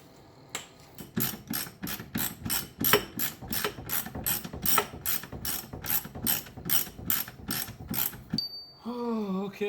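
A ratchet wrench loosens a rear lower control arm bolt on a 2005-2009 Subaru Legacy/Outback, clicking in a fast, steady series of close, loud pawl ratchets before stopping, followed by a brief squeak.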